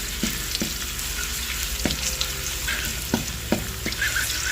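Ginger fries in hot oil left over from frying fish, giving a steady, close sizzle. A spoon knocks against the pan several times at irregular intervals, and no one speaks.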